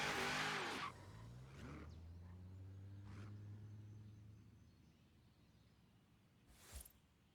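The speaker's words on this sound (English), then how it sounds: "Seriously, I drive some cars just for the engine sound." A car engine in the video game Forza Horizon 3 revs hard, then settles into a steady droning tone that slowly drops in pitch and fades, with a brief sharp burst near the end.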